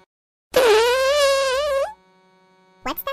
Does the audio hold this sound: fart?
yes